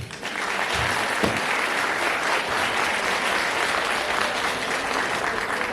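Steady, dense audience applause fills a charity concert hall at a children's and youth creative center, a continuous even wash of many hands clapping at a constant level throughout.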